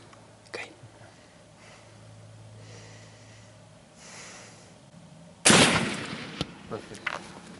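Single loud rifle shot during a black wildebeest hunt in South Africa, a sharp broadband crack followed by a few smaller knocks and movement, after low murmured talk in the open bush.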